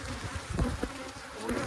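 Honeybees buzz in an open hive during an inspection of brood frames, a close, dense hum with a few louder swells as bees fly near.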